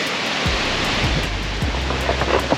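Strong wind roars and buffets steadily outdoors, a loud broadband rush with low gusty rumbles against the microphone.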